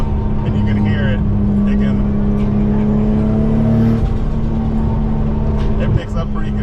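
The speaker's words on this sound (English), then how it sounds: "A lot of backfiring when you got a turbo car, big turbo" A Nissan Skyline R32 GTR engine with a big single turbo roars steadily and loudly, with a sharp backfire pop near the end, under continuous engine noise.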